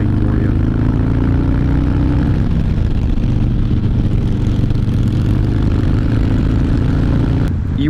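A motorcycle engine runs loudly nearby, a dense droning rumble that shifts pitch as it moves, with wind noise and no talking over it.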